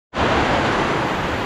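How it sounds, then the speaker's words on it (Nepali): Heavy rain falling during a motorbike ride from Dharan to Gaighat, starting abruptly as a loud, dense, steady roar of noise that holds for over a second with no talking. "यस्तो दामी पानी परिरहेको छ"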